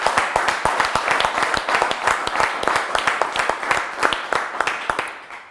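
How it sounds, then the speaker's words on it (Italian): Applause and clapping from a game-show studio audience for the Moimacco and Dignano teams, dense, steady and close, fading slightly toward the end. "Fatevi un applauso perché siete stati bravi."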